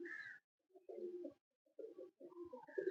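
A favourite racing pigeon coos in several soft, throaty bursts separated by brief pauses, close by and clear with no talking.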